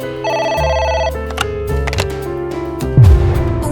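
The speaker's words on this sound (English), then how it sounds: "A phone." A telephone in a video game rings with a bright, repeating electronic trill, steady tones stacked in pulses, loud and close, followed by a low descending swoop near the end.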